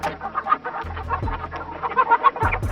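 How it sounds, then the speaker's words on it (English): Cartoon chicken sound effect with rapid clucking and squawks, a busy stream of short bursts, loud and close, with no voices. "Chicken."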